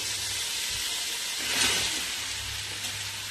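Chopped onions dropped into a hot pan beside cooked beef hiss and sizzle with a steady broadband crackle, swelling briefly mid-way, with no talk.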